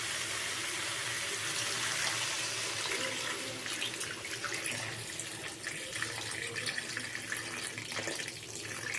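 Water is poured into a pot of hilsa fish head curry with Malabar spinach, making a steady, soft rushing splash that runs unbroken for several seconds with no voices.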